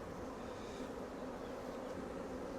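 Honeybees buzz steadily and densely throughout, a close, continuous hum during a hive inspection, with nurse bees and drone brood on the frames being checked.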